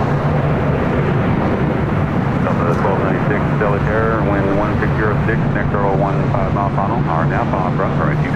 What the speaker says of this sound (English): We got a Delta 767 rolling down 25 right.